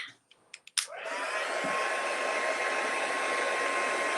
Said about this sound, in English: I'm just going to zap that again with the heat tool and just try and get that dry